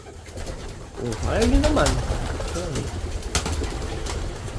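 Pigeons cooing close by, with a faint flutter of wings, in a loft being let out for release; someone talks in Filipino over the birds.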